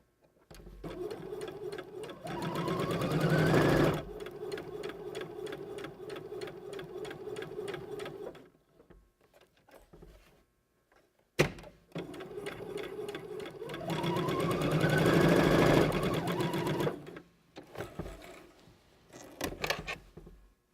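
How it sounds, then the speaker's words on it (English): A sewing machine stitches straight along a marked line on sleeve fabric with no backstitching, running in two close, steady bursts of a few seconds each, separated by a brief pause. "You're going to go to your machine, and what we're going to do is we're going to stitch right on that marking."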